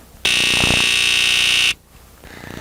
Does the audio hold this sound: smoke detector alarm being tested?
yes